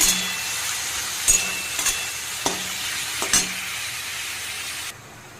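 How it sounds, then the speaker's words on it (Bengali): Potato and carrot pieces sizzle steadily in a hot pan, with a constant frying hiss broken by a few sharp clinks and scrapes of a spatula stirring. "এবার এই পর্যায়ে এসে আমি আলু গাজরটা ছেড়ে দেবো। 10 মিনিট ভেজে নেব।"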